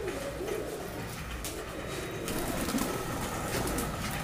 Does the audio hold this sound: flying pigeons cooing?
yes